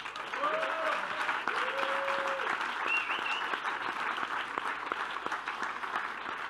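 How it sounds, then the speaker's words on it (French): Audience applause at a political meeting on Palestine, a steady crowd clapping filling the whole stretch, with a few faint voices and whistle-like tones briefly rising above it. "qu'on peut aussi applaudir"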